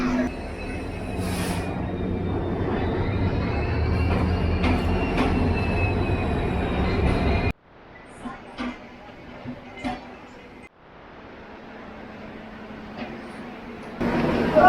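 A passenger train arrives at a station in northeast India, rumbling past close by with a steady metallic drone and a high wheel squeal, then the noise drops to quieter rail clatter and distant platform sounds.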